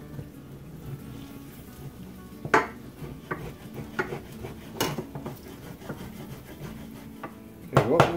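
A utensil scrapes and stirs across the bottom of a stovetop pan of garlic while cooking Parmesan garlic mushroom chicken, with a run of close, scattered scrapes and knocks of varying loudness and no talk.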